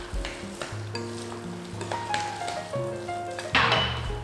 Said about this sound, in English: So now I'm going to add my 2 eggs that I went ahead and whisked in the bowl before.